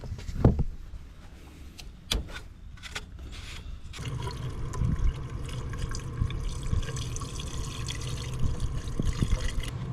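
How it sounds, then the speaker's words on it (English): Water pours into the coolant system of a 2008 BMW X3 under repair for a coolant leak: a few sharp splashes and drips first, then a continuous steady filling gurgle for the remaining six seconds. "Fill it up with water for now, and we'll test it out."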